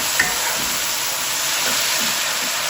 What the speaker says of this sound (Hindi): तेज़ आंच पे आपने ना 3-4 मिनट भुनाई करनी है।